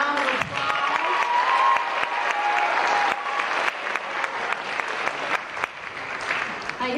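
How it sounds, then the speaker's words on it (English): An audience at a school band concert applauds with steady, sustained clapping that fills the hall, and a voice is briefly heard over it. "let's give them a round of applause"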